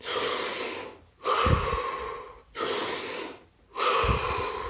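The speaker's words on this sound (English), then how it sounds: "This time, 5 deep breaths." Slow, deep breaths taken close to the microphone during a guided breathing exercise: long airy inhales and exhales come in four broad swells separated by short silent gaps, with no talking.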